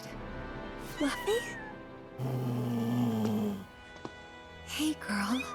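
Cats meow and purr in the Final Fantasy VII Rebirth video game, with several short high mews over a steady low purr, close and clear, and a faint voice briefly present.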